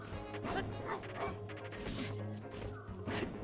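Dog barking during combat in Breath of the Wild, a few sharp barks mixed with hits and clattering game sounds over a steady background drone.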